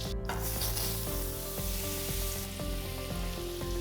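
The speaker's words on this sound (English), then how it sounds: "First, we're going to saute our mushrooms." Porcini mushrooms sauté in butter in a pan with a steady, loud, dense sizzle, and a few utensil stirring knocks sound through it.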